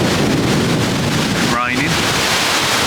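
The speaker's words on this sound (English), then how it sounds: "Blowing a gale out here, terribly windy" Strong wind buffets the microphone in a constant, loud roar, with a brief tonal whistle partway through.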